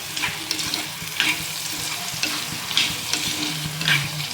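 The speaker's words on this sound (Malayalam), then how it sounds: "അരിഞ്ഞു വെച്ചിരിക്കുന്ന സവാളയും തക്കാളിയും പച്ചമുളകും കൂടി ഇട്ട് കുറച്ച് ഉപ്പും കൂടി ഇട്ട് ആവശ്യത്തിനുള്ള ഉപ്പിട്ട് ഇളക്കി" Chopped onion, tomato and green chili frying in a pan with salt, stirred with a spoon: a steady soft sizzle broken by repeated scraping strokes about once a second, close up with no voices.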